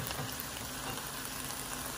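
Taco meat and rice frying in a pan give off a steady, close sizzle with soft crackle, continuous and even throughout without pauses.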